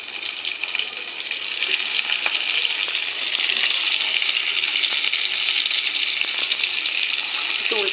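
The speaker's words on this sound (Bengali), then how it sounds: "একটু উল্টে পাল্টে ভেজে নেবো," Salted pointed gourd pieces fry in hot oil in a kadai, giving a steady, loud, close sizzle throughout, with faint clinks of stirring and no talking.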